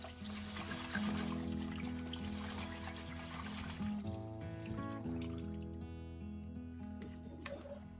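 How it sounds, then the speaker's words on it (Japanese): Water pours and trickles steadily out of a tilted rice cooker bowl as rice is washed, draining in a continuous, close stream that fades slightly toward the end. "洗って水を流すときは、"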